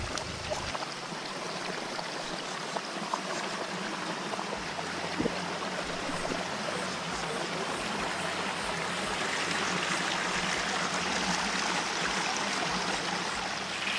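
A river flows beside a campsite in the Khao Phanoen Thung forest, giving a steady, broad rushing wash that holds even throughout and grows slightly fuller near the end, with no one talking.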